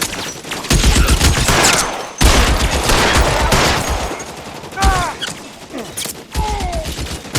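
Gunfire in the video game L.A. Noire comes as rapid, close bursts of automatic fire separated by brief pauses, with a few short shouted voices breaking through in the later gaps.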